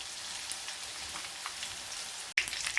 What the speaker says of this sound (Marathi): लसूण छान लाल परतून घ्यायचं आहे